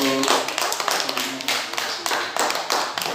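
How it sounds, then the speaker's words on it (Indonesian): A group of students claps hands in a quick, uneven burst of applause lasting a few seconds, with faint voices underneath. "tepuk tangan juga dulu"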